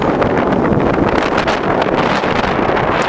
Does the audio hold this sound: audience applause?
no